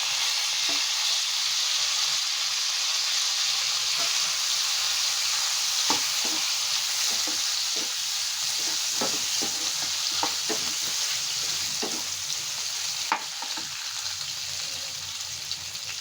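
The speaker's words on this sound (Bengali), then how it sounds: "এখন আমি এই ফোড়নের ভিতরে করল্লা আর আলু যে ভেজে রেখেছিলাম সেটা দিয়ে দিচ্ছি" Bitter gourd and potato sizzle steadily in a mustard tempering, a close, constant frying hiss broken by scattered clicks and scrapes of stirring.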